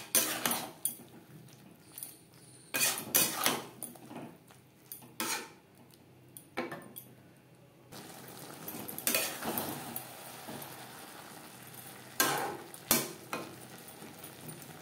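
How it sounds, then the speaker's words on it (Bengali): Arum stems being stirred and mixed with a mustard, coconut and green chilli paste in a pan for a vegetarian chorchori, giving repeated close scraping and clinking strokes of a utensil in irregular bursts, with no talk. "ডাঁটার সাথে সর্ষে নারকেল ও কাঁচা লঙ্কার পেস্ট বেশ ভালো করে মিক্স করে দেব"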